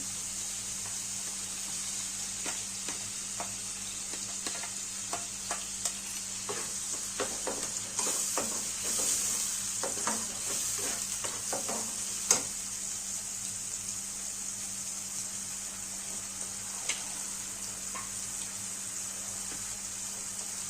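Onion paste and tomato paste frying together for matar paneer, a steady low sizzle with intermittent soft stirring clicks and scrapes, with a constant hum running underneath.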